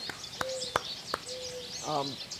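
Birds at a live-streamed feeding spot, a red-bellied woodpecker among them, trade bright chirps, short whistles and a rapid trilling call, close and fairly clear over a soft outdoor background.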